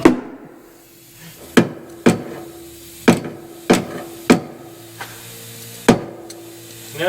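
Hammer blows ring out while a Jeep Grand Cherokee is being built, about eight sharp metallic strikes at uneven intervals with short ringing tails, close and loud over a faint steady hum.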